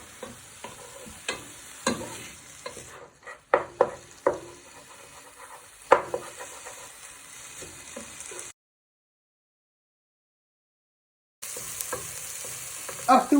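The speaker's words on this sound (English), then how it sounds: "Hear that sizzle." Chicken sizzles in a frying pan for chicken noodle soup while a wooden spoon stirs and scrapes it, steady frying hiss with irregular scraping knocks, then a gap of silence before the sizzling returns.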